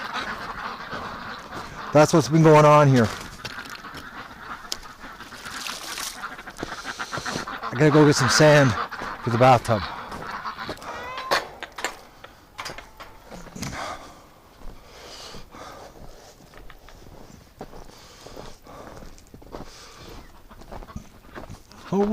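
A male Muscovy duck and a goose call in a winter farmyard: a few short harsh calls rise in two bursts near the start, with a person talking close by throughout.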